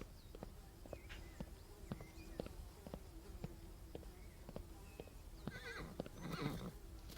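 In the Alfred Hitchcock's Vertigo video game, a rescued horse whinnies and neighs over a rhythmic series of clip-clopping hooves, fairly faint, with a louder neigh swelling near the end.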